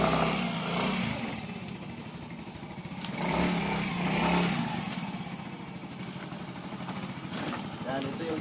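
A motorcycle engine runs steadily nearby on a rural road in the Philippine provinces, a continuous mid-pitched drone that swells slightly at times, with a person talking over it throughout.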